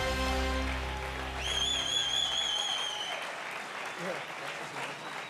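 An audience gives an ovation to the Geneva Lions team at a sports awards night, sustained clapping under a presenter's voice and a tonal sound at first.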